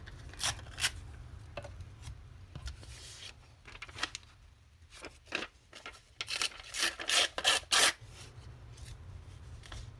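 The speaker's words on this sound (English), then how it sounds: "And if I cut them into strips" Scissors snip paper into strips for an art journal, with quiet, irregular bursts of crisp cutting and rustling that bunch together toward the end.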